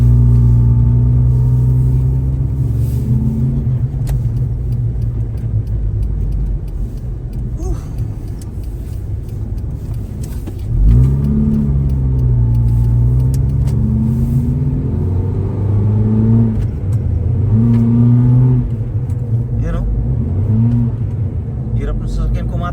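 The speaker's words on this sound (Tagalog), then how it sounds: "Pigil, parang pigil yung makina." A car engine labouring in freezing Canadian winter before its oil has circulated, a steady low rumble with strained pitch swells as it pulls, loud and close, with people talking over it.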